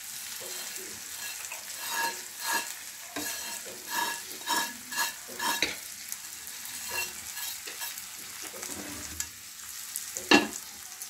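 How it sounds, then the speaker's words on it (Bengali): Dry-roasted semolina for upma is stirred in a pan over a soft sizzle, with irregular scraping strokes and a sharper clatter near the end, close and fairly quiet, no talking. "যে সুজিটা রোস্ট করে নিয়েছিলাম শুকনো কড়াইয়ে, সেটা এবার দিয়ে দিচ্ছি।"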